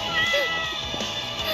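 A cat meows loudly several times at close range while being kept inside, its cries mixed with people talking nearby.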